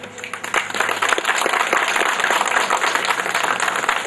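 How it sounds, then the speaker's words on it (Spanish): An audience at a Tlaxco municipal presentation ceremony applauds a mayor, a dense burst of many hands clapping that swells in quickly and holds steady, fairly close and loud. "Jorge Rivera Sosa, para quien pido un aplauso."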